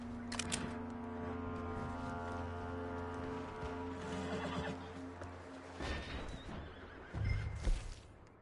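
A horse in Red Dead Redemption 2 whinnies and snorts amid game sounds, with hoof clip-clops and shifting noises, a louder burst of activity near the end, no speech.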